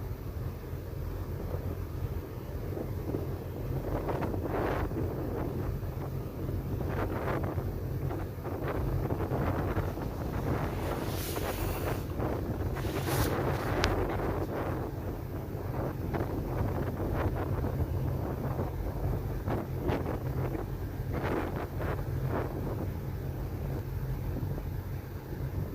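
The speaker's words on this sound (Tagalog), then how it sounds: "At super lakas talaga ng hangin dito guys." Strong wind blows at the Tbilisi Sea in Georgia, buffeting the microphone with a constant loud rumble and rushing gusts that last the whole time.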